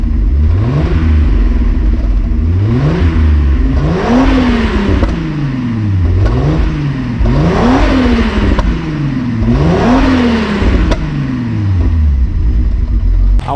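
A loud MK3 VR6 turbo car engine revs repeatedly, pitch climbing and falling in a steady cycle of about five rises, close up with a rough, throaty rumble.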